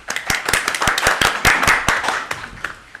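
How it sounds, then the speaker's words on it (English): Applause at a town selectmen's meeting, a short burst of scattered hand claps from a small group, fairly close and uneven, tapering off after about three seconds. "Hold your applause for the actual acceptance of the resignation"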